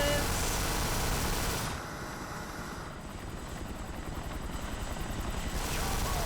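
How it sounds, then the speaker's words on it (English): Helicopter flying overhead in the video game Kane & Lynch 2, a loud continuous rotor roar that dips briefly and then holds steady, a dense wash of noise throughout. "Oh, another helicopter!"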